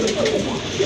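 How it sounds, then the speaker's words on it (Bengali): A large pair of pouter pigeons cooing, low rolling coos repeated in quick succession, close by and fairly clear, with faint background murmur. "অনেক বড় সাইজের এক জোড়া পোটার কবুতর"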